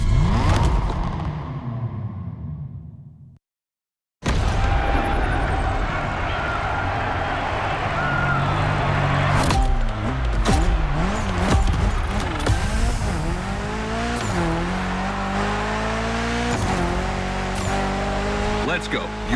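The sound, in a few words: Mitsubishi Evo 9 engine revving, video game The Crew Motorfest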